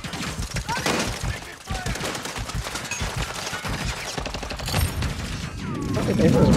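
Dense, rapid bursts of gunfire crackle almost without pause, loud and close, mixed with shouting voices throughout.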